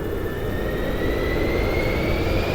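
Light aircraft engine at full throttle during takeoff, a loud steady roar close by with a constant high whine running through it, no voices.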